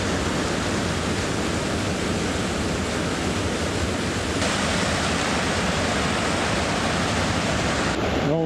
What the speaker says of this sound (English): there's a waterfall too